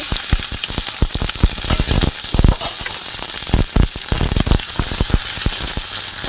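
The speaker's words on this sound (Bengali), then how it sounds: "তেলটা গরম হয়ে গেছে আর এই দেখো কেটে রাখা পেঁয়াজটা দিয়ে দিচ্ছি" Chopped onion dropped into hot oil sizzles and crackles loudly and steadily, with dense popping bursts throughout, close up and with no voices.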